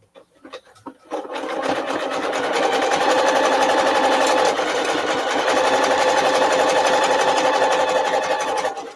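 A sewing machine makes a slow buttonhole stitch through several layers of tight-weave fabric on a zippered fat quarter project bag. A few hesitant clicks lead into a loud, continuous mechanical whir that stays close and steady to the end, with no talking.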